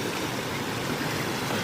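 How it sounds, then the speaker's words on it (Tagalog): A river or stream current flows in a steady, broadband rush that fills the whole span at even loudness, with no speech over it. "Agos ng tubig."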